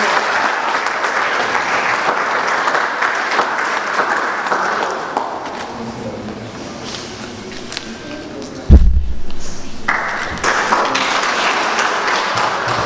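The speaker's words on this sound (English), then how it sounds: "Please clap for them." Audience applause fills a school graduation ceremony, a dense, steady clapping from a crowd that tapers off, breaks briefly with a thump, then resumes.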